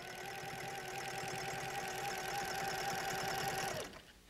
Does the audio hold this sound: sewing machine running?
yes